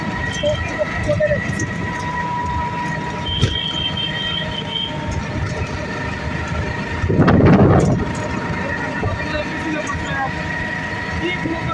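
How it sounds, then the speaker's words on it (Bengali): A train at Bongaon railway station in West Bengal gives a steady, rumbling station din, with a short, louder surge of noise about two-thirds of the way through and voices mixed into the background. "এই মুহূর্তে আমরা বনগাঁ রেল স্টেশন আসলাম"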